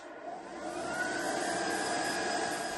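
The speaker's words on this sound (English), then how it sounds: "Switch the compressor to the on position." A Smeco portable air compressor runs with a steady, close, whooshing whine, building slightly in the first second and then holding at an even, loud hum.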